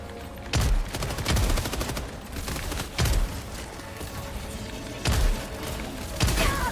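Five loud, close shotgun blasts ring out at irregular intervals during Helldivers II combat, each a sharp crack with a short tail over busy battle noise.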